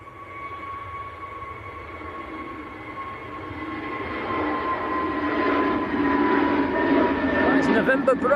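A Jet2 Airbus A321neo at Manchester Airport gives a steady rising engine roar with whining tones that grows louder over several seconds as the aircraft approaches, with people talking throughout.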